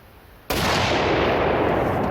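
A test round from a homemade reload fired at a range: one sudden sharp blast after a quiet moment, followed by a loud, broad, sustained rumble that trails off slowly; no talking.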